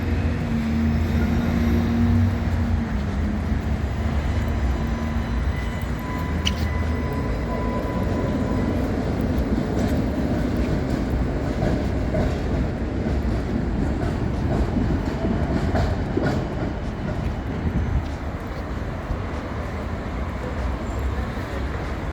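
A tram rumbles along steadily on its tracks in Budapest, a continuous low rolling roar with faint squeals and clatter, close by and fairly loud.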